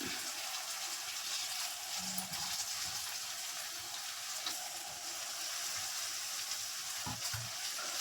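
Onion, tomato and curry leaves sizzle softly in a pan while being sautéed for chicken gravy. The frying is steady and quiet, with occasional stirring clinks and scrapes.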